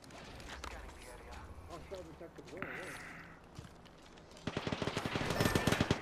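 Automatic weapon fire in the Apex Legends video game comes as rapid bursts of sharp shots, loudest toward the end, mixed with in-game effects while players talk over it.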